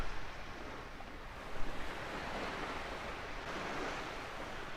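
Water laps and washes steadily at a reef resort in a flight-simulator scene, a broad continuous surf-like wash with a brief swell near the middle, fairly loud and without voices.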